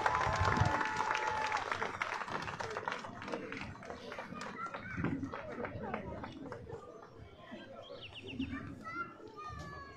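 An outdoor crowd at a fifth-anniversary celebration applauds a marching band from Cholula, Puebla, with dense, continuous clapping mixed with cheering, children's voices and chatter, and a few bird chirps near the end.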